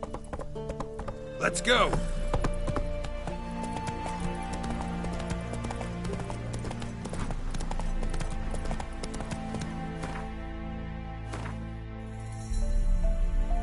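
Roach, the horse in The Witcher 3, gallops with rhythmic clip-clop hoofbeats under game music, while a voice calls out briefly.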